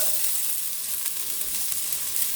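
Sweet potatoes sizzling in hot oil in a pan for a turkey pot pie filling, a steady bright hiss that holds at an even level throughout with no talking.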